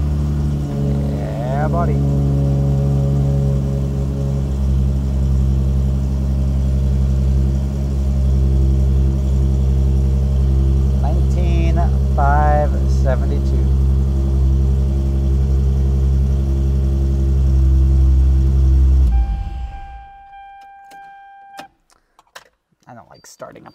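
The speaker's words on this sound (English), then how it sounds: "I don't like starting up the car." A car engine cranks, starts and idles with a strong steady low rumble, revving up briefly before cutting off abruptly near the end, with short speech over it.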